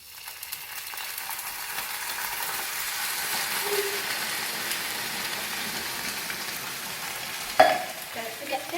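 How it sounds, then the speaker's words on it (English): Chopped tomatoes and a bay leaf fry and spit in a hot pan, a steady close sizzle with faint stirring, and one sharp pop near the end. "Be very careful because it's spitting out very hot tomatoes."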